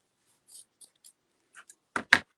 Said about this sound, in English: Then I want you to cut through those.